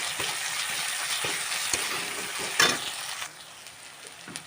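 Spices and garlic paste frying in a pan give a steady, close sizzle with irregular scraping stir strokes and one brief louder clatter midway.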